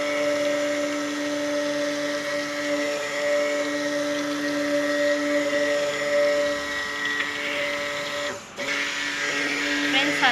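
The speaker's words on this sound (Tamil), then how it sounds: "நம்ம கொஞ்சம் கொஞ்சமாக ஊற்றி பிளெண்டர் போட்டு கலக்கிக்கலாம்" A blender whirs steadily, mixing a charcoal cold-process soap mixture at home, with a constant motor drone that dips briefly near the end.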